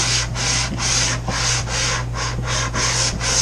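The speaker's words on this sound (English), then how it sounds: "I take sandpaper, 150 grit, at a slight angle" 150-grit sandpaper rubs at a slight angle through tape laid on a wooden hull, a close, rhythmic series of about nine scratchy hand strokes in steady back-and-forth succession, with a faint low hum underneath and no talking.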